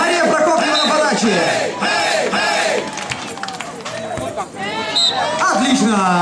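Spectators cheering and shouting at a women's beach volleyball championship bronze-medal match in 2012, a loud sustained crowd roar with rising whoops and yells throughout.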